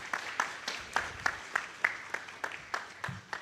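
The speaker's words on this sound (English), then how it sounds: "Have a huge round of applause." Scattered applause at a startup launch event, a dozen or so distinct claps at an uneven rhythm, fairly quiet and distant in a room, no one speaking.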